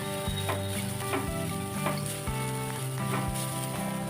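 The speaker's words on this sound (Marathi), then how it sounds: "यात आता ओलं खोबरं टाकायचं आहे याला छान मिक्स करून घ्यायचं" Grated fresh coconut is stirred in a pan for a Maharashtrian modak filling, with rhythmic scraping strokes of a spoon against metal over a soft sizzle.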